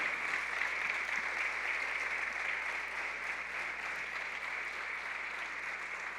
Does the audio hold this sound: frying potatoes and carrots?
no